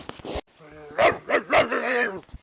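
A dog barks a few times up close, sharp yelping barks mixed with a voice speaking over them.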